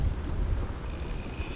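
Wind buffets the microphone outdoors on a road trip, a steady low rumble and hiss with gusty swells throughout.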